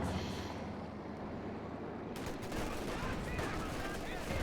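Machine-gun fire in the WWII strategy game Company of Heroes 2: a steady rumble of battle that turns into dense rapid shooting and bursts partway through, loud and continuous.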